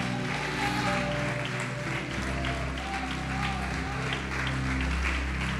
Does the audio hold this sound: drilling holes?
no